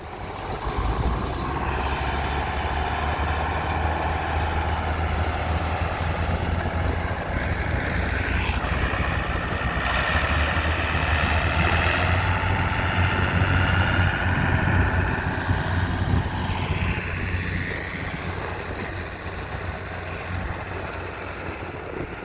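An Oliver 1365 tractor hitched to an Oliver three-bottom three-point plow runs steadily at a plow day, a continuous low engine drone with no voices over it.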